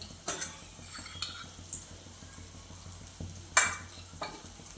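Cabbage curry with onion, tomato, salt, turmeric and chilli is stirred in a hot pan, a soft sizzle under scraping strokes and a few sharp metallic clinks of the spoon against the pan, close with no speech.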